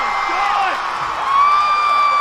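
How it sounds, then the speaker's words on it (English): A crowd cheers and whoops after Steven Tuggle wins his MMA fight against Christopher Justiniano, a loud continuous roar with individual shouts rising above it, close and sustained. "the crowd explodes"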